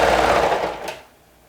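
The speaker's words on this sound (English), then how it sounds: "then you start serging all the way" A serger sewing machine stitches along fabric in one short, fast buzzing run lasting about a second, then stops, leaving near-silence.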